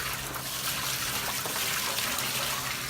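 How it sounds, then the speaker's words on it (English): Water running steadily into a pan set over a wood-fired evaporator boiling maple sap, a continuous close trickling, gushing wash with no talk. "I'm just gonna fill it with water"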